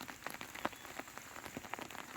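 Rain patters steadily on surfaces at an outdoor location, a soft, even hiss of many small drops with faint individual taps, fairly quiet and with no voices.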